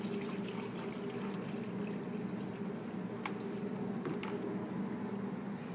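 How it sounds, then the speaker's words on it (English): Water is poured into the strainer basket of a commercial pool vacuum, a soft, continuous trickle and splash that stays quiet and even throughout. "And fill the basket with water."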